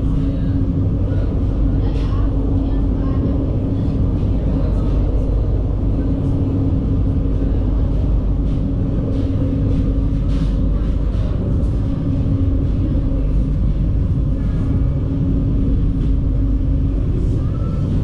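The Papandayan economy train crosses the Cirangrang rail bridge over a highway near Padalarang with a steady, loud, continuous rumble and rolling noise that holds throughout without a break.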